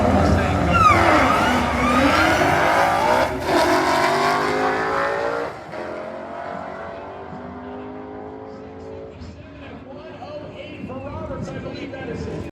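A 2004 Mustang Cobra and a 1986 Mustang Cobra racing at a drag strip at Tulsa Raceway, loud roaring engines climbing through gears then fading into the distance, with an announcer talking over the noise.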